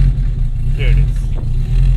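A cold 800-horsepower all-wheel-drive 2002 Acura RSX Type-S with a loud turbocharged, straight-piped engine warming up, a deep steady idle rumble close by, with a voice speaking over it.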